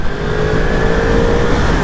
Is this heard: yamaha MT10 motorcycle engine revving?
yes